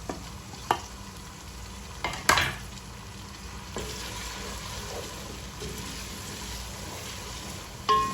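Tomatoes and spices stirred and frying in a pan for yakhni pulao, a steady soft sizzle with occasional scraping clinks of the spoon against the pot, no talking.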